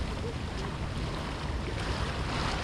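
Rough open sea around a small fishing boat out jigging, a constant loud wash of churning waves mixed with heavy wind buffeting the microphone, with no break in the roar.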